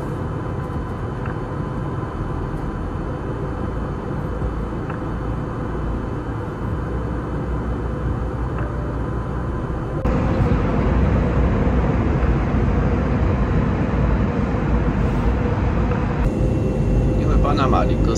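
Steady, loud cabin drone of an airliner in flight over Central America, a constant low roar that steps up in level partway through, with muffled voices and announcements running underneath.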